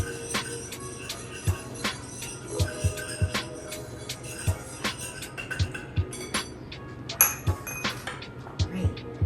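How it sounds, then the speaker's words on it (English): A spoon stirs a cornmeal mixture seasoned with Old Bay in a bowl, giving sharp, irregular clinks and taps against the dish over several seconds alongside softer scraping, close and fairly clear. "I'm gonna take that and stir it all together"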